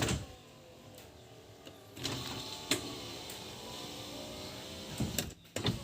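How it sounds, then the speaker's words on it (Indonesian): Power window motor whirring in an Isuzu Panther Grand Touring 2010, a steady hum running for several seconds with a couple of sharper clunks as the glass stops, fairly close inside the car. "Bagian power window belum dicoba tadi"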